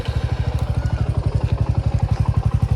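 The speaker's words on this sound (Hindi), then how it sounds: "तो ये इसकी कुछ जब हम रेस नहीं देते तब इसकी ऐसी साउंड आती है।" A Suzuki Gixxer 250 BS6 motorcycle engine idles close by, a steady, even low thumping pulse with rapid regular beats and no talking.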